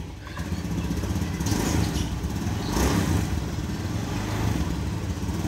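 A motorcycle engine idles at close range while warming up, a steady low putter with a slight swell in revs midway, holding even throughout.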